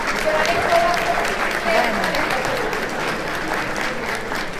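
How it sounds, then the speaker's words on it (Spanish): Steady, sustained applause fills a hall at a corporate anniversary celebration, a thick wash of many hands clapping at an even level from start to finish. "Con estos aplausos hemos finalizado las ponencias"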